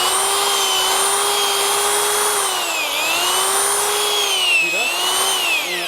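A motorized auger drill bores into the ground for a probe installation, a loud steady whining drone whose pitch sags and recovers under load, close and continuous throughout.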